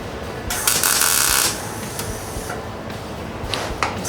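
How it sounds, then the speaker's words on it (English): A wire-feed welder runs after a wire feed motor repair, giving a harsh bright crackling burst of about a second near the start, then quieter shop noise and a couple of shorter crackles. "Yes! It seems to weld."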